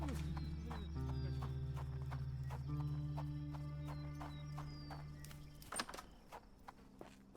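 Horse clip-clopping and whinnying in a Sherlock Holmes video game, steady hoofbeats under droning game music and ambient tones, with a sharper whinny near the end.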